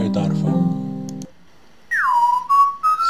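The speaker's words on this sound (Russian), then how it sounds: "Свист человека." A whistle sound from a browser music lab: a pure tone swoops down and then holds steady with small pitch steps. Before it comes a brief, different buzzing tone and a short silence.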